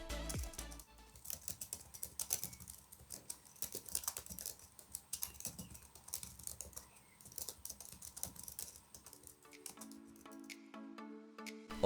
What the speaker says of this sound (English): it's time to test the keyboard